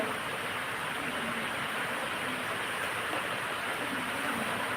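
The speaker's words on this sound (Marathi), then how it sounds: "बाहेर पाऊस आहे" Steady rain falls outside a house in Konkan during a power cut, a dense, even hiss that holds at the same level throughout with no voices.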